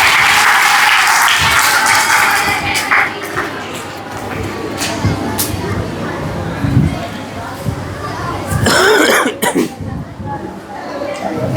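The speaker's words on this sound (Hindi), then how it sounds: "उसके लिए तो ज़ोरदार ताली बनती है।" An audience bursts into loud, dense applause at a tribute event for A.P.J. Abdul Kalam, clapping close and steady with scattered coughs and crowd murmur, then swelling again near the end.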